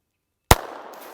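A single sharp .22 LR gunshot from a CCI Uppercut round, loud and close, cracking out after silence and leaving a short fading ring.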